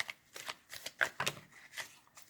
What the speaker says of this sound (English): I'm going to give it a shuffle. Good shuffle here.